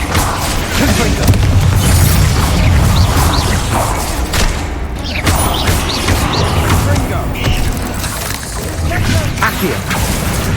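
In the Hogwarts Legacy video game, Confringo fire spell blasts and other spell combat effects rumble and boom continuously, loud and dense, with layered explosions and mechanical clatter throughout.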